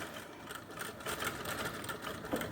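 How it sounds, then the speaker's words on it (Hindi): A motorized sewing machine stitches elastic onto a pair of women's pants, giving a steady, fast mechanical whir with a rapid needle clatter, close and continuous throughout. "मेरे पास तो चलो ये मशीन मोटर वाली है, मैं मशीन उसका इसके एक्सीलेटर दबाऊंगा, अपने आप आगे भागेगी"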